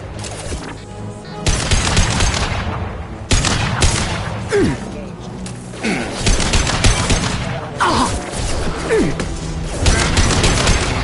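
Firefight gunfire in the video game Mass Effect 2, loud volleys of rapid shots in repeated bursts with booming impacts between them, close and dense, with occasional voices mixed in.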